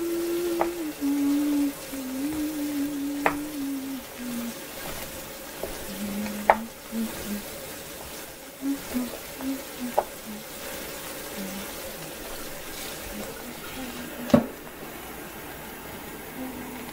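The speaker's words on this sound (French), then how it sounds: "Je vais ajouter l'eau. Je veux un peu l'eau warm, tiède." Warm water poured into a hot pan of spicy rice, with steady sizzling and frying hiss, faint stirring, and occasional soft clinks throughout, with no talk over it.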